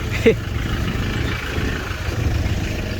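A motorcycle engine runs on a ride toward Dhading and Kathmandu, producing a steady low rumble throughout with a brief louder blip near the start.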